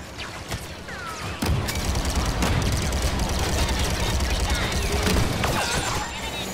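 Gunfire in the Star Wars Battlefront II video game: a dense, continuous clatter of blaster shots and crashing battle noise, loud and steady, with a voice briefly speaking over it.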